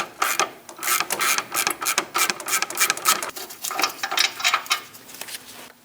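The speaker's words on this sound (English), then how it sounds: "Using an 18mm socket, we're going to remove the caliper bracket bolts." An 18mm socket on a ratchet backs out the rear brake caliper bracket bolts on a Chevrolet Express 2500 van, producing rapid, close, rhythmic clicking bursts that continue throughout.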